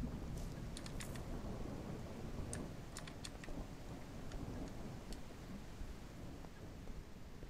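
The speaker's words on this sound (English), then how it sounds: "Why are you outside in the rain?" Rain and thunder in the horror video game [REC] Paroxysm make a quiet, continuous downpour hiss with a low rolling rumble and scattered faint ticks on top.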